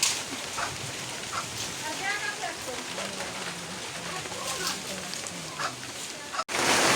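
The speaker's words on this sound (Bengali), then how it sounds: "এ জায়গায় বৃষ্টি এসে গেছে" Rain falls on a riverbank in windy weather, making a steady broadband hiss with scattered drop patters. Someone talks over it, and there is a brief break near the end.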